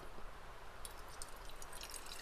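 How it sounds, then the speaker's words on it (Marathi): Water poured into a cooking pot over an outdoor fire, a steady close trickling and dripping splash that runs alone throughout. "घेऊ पाणी ओतून"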